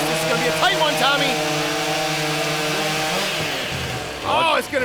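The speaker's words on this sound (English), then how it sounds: "Both of these guys really exceptional saw operators, synchronized sawing" Chainsaws rip through logs in synchronized sawing at a STIHL Timbersports men's qualifier, a loud sustained whining drone with rising and falling pitch sweeps, while a commentator talks over it.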